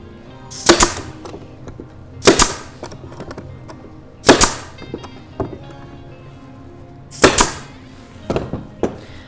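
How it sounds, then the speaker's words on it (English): A staple gun drives staples into wood while a bat house is being built. Four loud, sharp snapping shots come at uneven intervals, with faint clicks and handling noises between them and lighter taps near the end. "And then I'm going to staple it."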